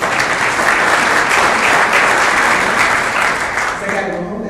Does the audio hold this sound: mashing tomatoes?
no